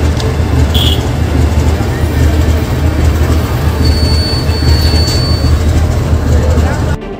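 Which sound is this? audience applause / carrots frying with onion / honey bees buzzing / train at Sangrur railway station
train at Sangrur railway station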